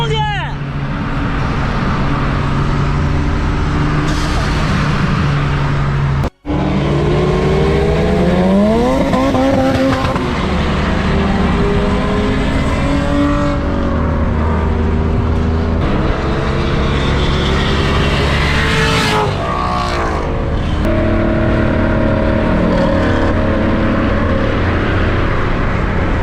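Cars at a car meet rev their engines and race, loud throughout, with a swooping, rising engine pitch, a brief gap about a quarter of the way in, and people talking underneath.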